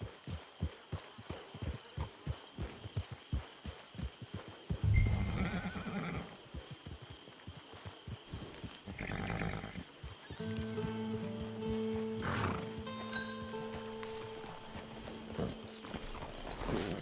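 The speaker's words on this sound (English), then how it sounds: "Get your horse." A horse in Red Dead Redemption 2 clip-clops along at a steady rhythm, then gives a loud whinny followed by more snorts and neighs, with a low tonal game sound under the later part.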